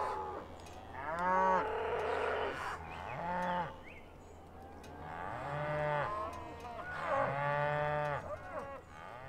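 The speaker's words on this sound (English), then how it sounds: "I don't know if you can see any cattle way down there coming." Cattle mooing repeatedly on open ranch land, several long lowing calls, moderately distant, from more than one animal.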